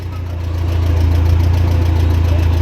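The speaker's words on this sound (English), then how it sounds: "Four-cylinder Continental gas." Massey Ferguson MF 235 tractor with a four-cylinder Continental gas engine running close by, a loud steady low rumble that swells slightly at the start, with no talk.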